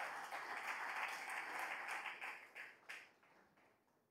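A church congregation claps together as an offering to the Lord, a brisk burst of applause that thins out into a few scattered final claps and fades away.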